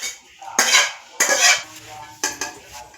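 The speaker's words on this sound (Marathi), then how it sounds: "आता आपण भाजी प्लेटमध्ये काढून घेऊया" Cooked amaranth greens being served onto a plate, three distinct bursts of spoon scraping and clinking against a pan, close and fairly loud, separated by short quiet gaps.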